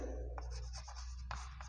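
Scratchy strokes of writing on a board, a few short rasping marks in quick succession, faint and close.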